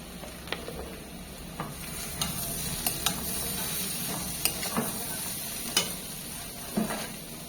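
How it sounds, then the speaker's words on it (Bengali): Paneer frying in a pan while being stirred, a steady sizzle running throughout with scattered scraping clicks of the spatula, close and alone with no talking. "আর ভেজে রাখা পনিরগুলো। একটু ভালো করে ভেজে নেব"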